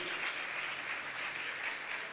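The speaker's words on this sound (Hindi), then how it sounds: "ताली बजाकर उनका सम्मान करें।" Steady applause from an audience at a Jain religious gathering, honouring a family, with even, continuous clapping at moderate distance and no talk over it.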